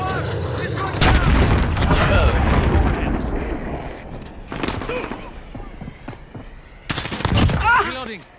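Loud bursts of gunfire and explosive booms from a Call of Duty multiplayer hardcore domination match, with heavy sustained shooting at the start and another sharp volley near the end, mixed with game voices and talk.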